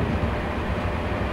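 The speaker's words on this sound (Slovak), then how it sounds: "nákladný vlak oproti." Freight train passing in the Open Rails train simulator game, a steady loud low rumble that holds evenly throughout with no talk over it.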